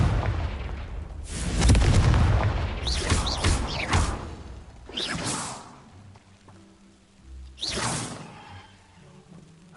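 A Confringo fire-blast spell from the game Hogwarts Legacy goes off in a loud booming burst with whooshing tails, followed by further sharp blasts and a fading rumble, close and forceful.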